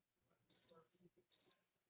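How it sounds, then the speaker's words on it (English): Crickets chirp in two short, bright trilled bursts separated by a pause, crisp and isolated against near silence with faint murmurs between. "crickets"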